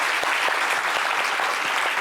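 Steady audience applause at a live French comedy show, dense clapping filling the room at an even level, with no one talking over it.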